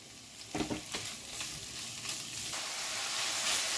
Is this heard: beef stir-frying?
yes